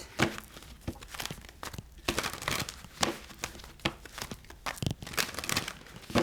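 Tarot cards are shuffled up close: quiet, irregular slaps and papery riffles come in short bursts, with no voices.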